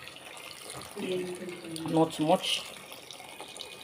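Water poured into a cooking pot for jollof rice and beans gives a brief, close splashing pour that swells and fades over a couple of seconds while someone speaks a few words.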